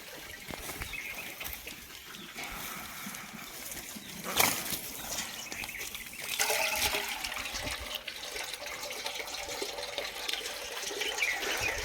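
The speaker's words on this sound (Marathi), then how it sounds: "शेळ्यांना भरायची आपल्याला एक बादली" Running water pours and splashes steadily into a bucket being filled for goats, growing slightly fuller and louder partway through, with a brief clunk near the middle.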